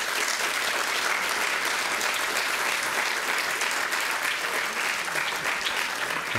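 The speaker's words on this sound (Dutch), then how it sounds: "Dus graag een applaus daarvoor." Sustained audience applause closes a symposium debate on designer babies and the right to children: a full hall clapping continuously and evenly from start to finish, loud and unbroken, with no voices rising above it.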